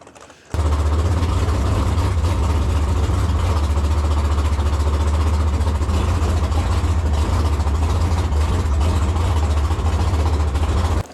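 A 1200-horsepower big-block jet boat engine idles on a lake, giving a loud, steady, deep rumble that starts abruptly and holds constant to the end, with no voices.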